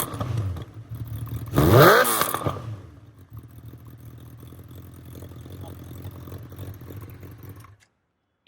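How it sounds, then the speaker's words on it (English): A Honda CB1000R motorcycle with a full Akrapovic exhaust cranks and fires up with a loud rising burst, then settles into a steady deep idle close by before cutting off. "I'll start it up and demonstrate that for you so you can hear what this bike sounds like with that exhaust on there."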